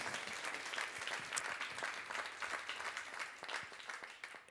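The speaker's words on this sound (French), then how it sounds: "On va applaudir une dernière fois à nos finalistes dans cette catégorie." At a business awards trophy ceremony, a quiet audience applauds the finalists in one category with steady clapping that tails off at the end.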